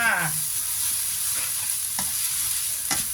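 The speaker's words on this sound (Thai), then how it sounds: "ผัดให้สุกเลยนะคะ ผัดให้สุกจ้า" Food is stir-fried in a pan until cooked, with a steady close sizzle and a few distinct scraping strokes of a utensil against the pan spaced through the moment.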